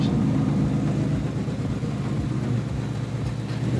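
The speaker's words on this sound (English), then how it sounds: "here's a clip of my Mustang" A Ford Mustang with a manual transmission runs with a steady, rumbling engine drone, loud and close, the low throb holding even with faint periodic pulses throughout.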